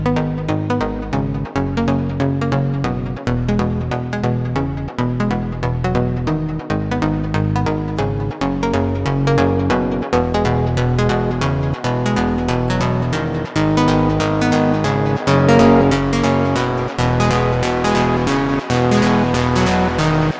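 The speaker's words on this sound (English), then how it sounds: "you can get a much tighter result by using spectral compression on these chords right here" Serum synth chords pass through the IFEA spectral compressor plugin, a sustained rhythmic chord progression with plucky percussive attacks, even in level and tight-sounding, played alone without speech for around twenty seconds.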